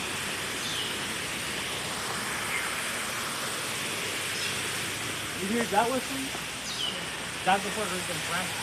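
Steady broadband hiss of rain falling outdoors on a Caribbean hiking trail, continuous and even, with a few faint voiced sounds rising briefly near the end.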